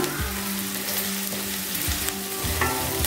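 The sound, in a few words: onions frying and being stirred in pan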